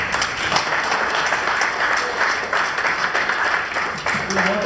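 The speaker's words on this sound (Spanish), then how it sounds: "Un aplauso para Gino Lucy, por favor." Audience at a press conference in the Gran Hotel Guayaquil applauds steadily, a dense continuous round of clapping lasting several seconds, with a voice briefly at the end.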